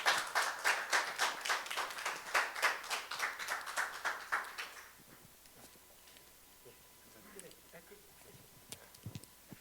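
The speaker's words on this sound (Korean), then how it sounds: "다시 한번 그 2부 강연 반주법을 맡아주신 저희 민경식 교수님께 큰 박수 부탁드리겠습니다" An audience breaks into rhythmic clapping after a lecture on piano accompaniment, loud and steady for about five seconds, then fading out as a host speaks over the quiet room.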